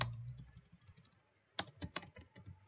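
Quiet clicks of a computer keyboard as C++ code is typed, with a few scattered keystrokes at first and then a quicker, denser burst of key presses.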